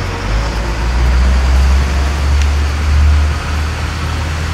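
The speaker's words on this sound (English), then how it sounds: "there's a truck right across the street, so I have to come a little bit closer to talk about this" A truck idling across the street, a loud, steady low rumble of engine and traffic with gentle swells, heard without any voices.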